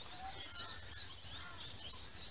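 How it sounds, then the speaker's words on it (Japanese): Many birds chirp and twitter faintly at a distance over a low steady background at Kondoi Beach on Taketomi Island, Okinawa, in the predawn darkness. "鳥もね、たくさん鳴いて"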